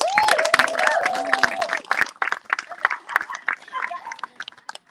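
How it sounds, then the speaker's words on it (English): Cabaret audience applause and whoops break out at the start of the evening, then fade into scattered claps while people chatter and laugh. "Give yourselves a round of applause."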